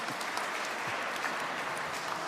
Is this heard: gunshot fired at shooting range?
no